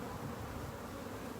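Honey bees swarm at their nest of a queen, workers and drones, a dense, continuous close-up buzz that holds steady throughout without any voices.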